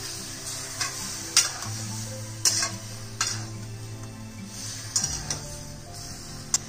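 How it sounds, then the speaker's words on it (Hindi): Small pieces of dhokla are stirred and mixed in a pan for a rasila dhokla recipe, giving soft scraping and a light, steady sizzle, with sharp spoon clicks at intervals and no talking. "इतना छोटे छोटे पीस इसके अंदर डाल देंगे। अच्छे से मिक्स कर लेंगे।"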